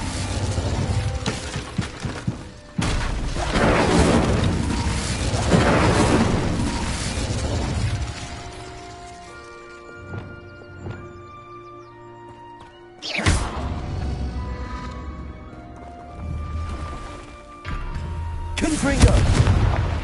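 Incendio fire spell cast in Hogwarts Legacy, heavy crackling blasts and bursts of roaring fire that swell loudly, fade into quieter stretches, then erupt again several times, with a voice heard at moments.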